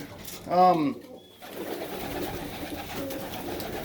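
A pigeon in an aviary gives a short, clear coo up close, followed by softer cooing and shuffling in the background.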